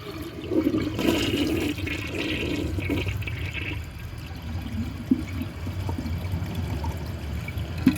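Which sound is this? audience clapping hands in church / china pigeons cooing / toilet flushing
toilet flushing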